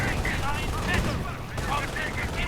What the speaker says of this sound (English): We are seeing artillery getting called in.